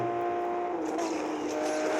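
Aston Martin DB9 Coupé engine in a multiplayer mobile racing game drones steadily at high revs, loud and close, with a brief rising swell.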